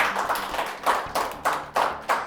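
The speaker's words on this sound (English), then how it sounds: "Let's give him a round of applause." A small studio audience on a children's quiz show claps for a contestant after the round's scores are read, with a few sparse, uneven bursts of hand claps close by.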